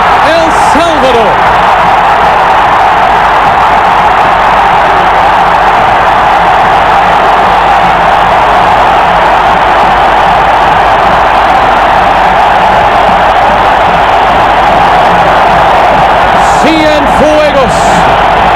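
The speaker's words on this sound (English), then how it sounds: "the crowd at the Cuscatlan go absolutely berserk" Stadium crowd at the Cuscatlan in El Salvador erupts after an El Salvador goal against Canada in a 1997 World Cup qualifier, a loud sustained roar of cheering with bursts of commentary at the start and end.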